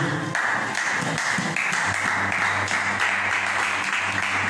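A church congregation bursts into sustained, dense applause and cheering that fills the room steadily for several seconds at an even loudness.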